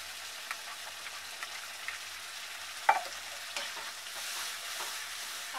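Chicken changezi gravy with milk and cream being stirred in a pan, a soft steady simmering sizzle with light scraping and one sharper utensil knock, quiet and close.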